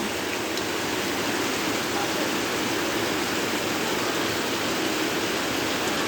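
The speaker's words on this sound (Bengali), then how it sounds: "প্রচুর বৃষ্টি হচ্ছে দেখুন কী পরিমাণে বিদ্যুৎ চমকাচ্ছে আর বৃষ্টি হচ্ছে" Heavy rain pours down in a dense, unbroken hiss, steady and loud with no pauses.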